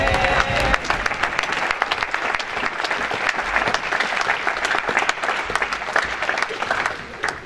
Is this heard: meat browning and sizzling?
no